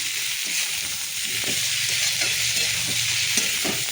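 Onions and tomatoes sizzling and frying in a pan while being stirred, a steady loud hiss with intermittent scraping stir strokes, no voices.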